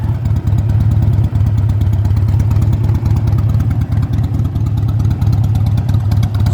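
A motorcycle being ridden on a mild 50-degree day, its engine droning loud and steady with a deep, continuous rumble that runs unbroken from start to finish, with no talk over it.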